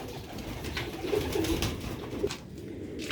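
Old-breed Sialkoti pigeons coo in low, throaty, repeated calls close by over a steady background hum. No one speaks.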